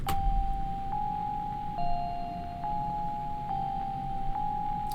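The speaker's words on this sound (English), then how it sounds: "for the first part of the melody, I've got these bells here that are very simple" A simple bell melody in a music production, with clean, ringing single notes struck at an even, unhurried pace, each sustaining into the next, with no voices.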